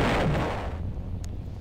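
A bomb blast in the Roblox game Brick Battle goes off loud and close with one broadband burst that fades over about a second into a low rumble.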